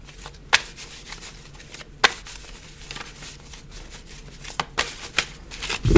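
Tarot cards shuffled by hand at close range, soft rustling broken by several sharp riffling snaps at irregular intervals, with a louder handling thump at the very end and no talk.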